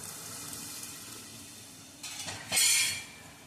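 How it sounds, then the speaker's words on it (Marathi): Water poured into a pan of soaked moong dal and vegetable, a short splashing gush near the end after quiet kitchen background, close and fairly loud for about half a second. "इथे मी पाणी टाकून घेते"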